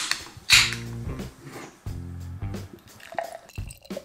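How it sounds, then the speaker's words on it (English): Beer is poured into a glass in bursts, with glugging splashes, fizzing and a few clinks and handling noises, close up and fairly loud. "So let's pour the beer."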